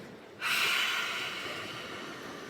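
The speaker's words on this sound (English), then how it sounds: "exhale for your lion's roar" A yoga lion's breath: one forceful, breathy exhale with the tongue out during an outdoor practice by the sea. It rushes in suddenly, then trails off slowly over the next two seconds, close and alone.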